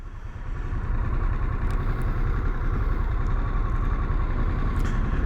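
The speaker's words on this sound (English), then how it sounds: "the Sportster S is brand new, using the Revolution 1250cc engine" A 2021 Harley-Davidson Sportster S with the Revolution 1250cc engine runs with a steady, close, low rumble that continues evenly without any voices.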